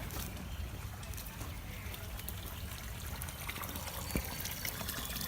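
Spring water trickling steadily at a farm spring house, where the spring rises from the ground and runs into the building; a soft, continuous wash of running water with a faint click near the end.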